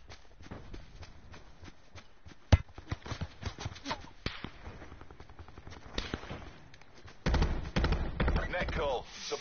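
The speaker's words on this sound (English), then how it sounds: "This is an assault rifle" Assault rifle fire in a battle-royale video game comes in scattered cracks and short rapid bursts, some near and some distant, ending in a louder sustained stretch of game noise.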